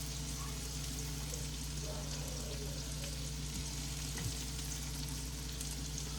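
Shrimp and salmon frying in a pan on the stovetop, a steady soft sizzle with faint crackle throughout, low and continuous with no talking.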